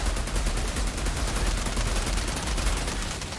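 Gunfire from a shotgun in the video game Valheim sounds as a loud, dense barrage of blasts that runs continuously without pause.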